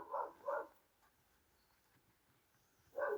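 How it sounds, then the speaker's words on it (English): Dogs bark in the distance, two quick barks at the start and another near the end, with quiet outdoor ambience between them. "Excuse the barking dogs in the distance, I can't do anything about that."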